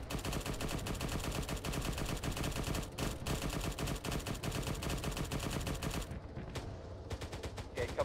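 Rapid, continuous aircraft cannon fire rattles steadily through a strafing gun run in a military video game, dense and unbroken for several seconds before breaking into shorter bursts, fairly faint overall.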